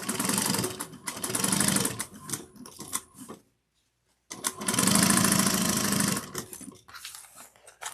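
Sewing machine stitching fabric in two fast rattling runs separated by a short silent pause, close and mechanical, ending in a few slower stitches.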